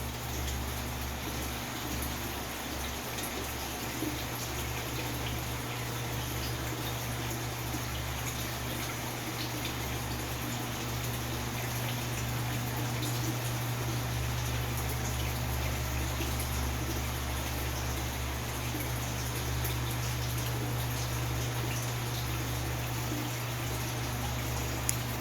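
Water gurgling and trickling steadily through a siphon draining an aquaponic grow bed in an indoor flower room, a constant close wash of flow with a low steady hum underneath.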